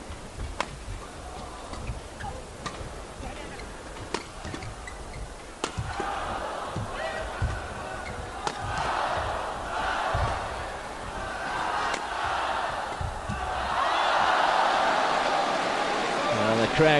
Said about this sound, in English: Crowd getting involved in that rally.